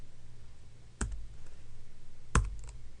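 Two sharp, separate keystroke clicks on a computer keyboard, about a second and a half apart, close and fairly quiet over a faint steady hum.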